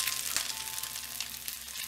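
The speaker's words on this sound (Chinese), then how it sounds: "这儿的鸡蛋稍微煎一下就可以了。" An egg frying in a pan, with steady soft sizzling and crackling heard alone at low volume and a couple of faint spatula scrapes.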